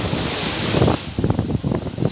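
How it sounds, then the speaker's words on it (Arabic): Sea waves wash against the Latakia coast, a steady broadband surf roar with gusts of wind buffeting the microphone and repeated swells building and breaking nearby. "هي البحر ناحيه مني منطقه اللاذقيه"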